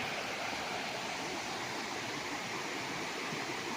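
A river beside a farm lot in Cavinti, Laguna, rushing in a steady, dense broadband roar like a nearby cascade, constant and loud with no breaks and no voices.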